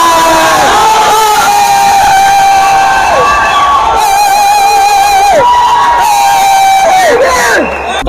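A cinema audience in Kallakurichi cheers at a film screening, a loud sustained roar of shouts and whoops with rising and falling yells and whistles running steadily for several seconds.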